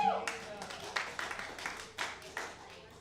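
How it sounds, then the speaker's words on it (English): Audience applause and clapping for the final speaker at a Speak Your Truth event, scattered claps in uneven bursts over about three seconds with a loud voice cheering over it. "give it up for Round of Joy, applause"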